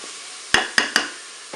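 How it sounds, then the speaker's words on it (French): Minced steak with salt, curry and pepper stirred in a Cookeo pot, three sharp utensil scrapes against the pot over a faint sizzle, close, no talking. "Je mélange tout ça."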